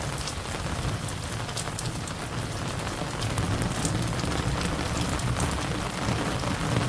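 Steady rain pours down at the start of the monsoon month of Sawan, a dense, even patter and hiss of drops on surfaces that continues unbroken and fairly close throughout.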